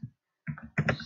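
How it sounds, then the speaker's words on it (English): A burst of quick, close key clicks as a Linux command is typed on a computer keyboard, a short pause between the first tap and a tight cluster of keystrokes. "type the command to restart our Apache server"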